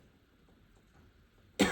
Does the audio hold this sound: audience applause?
no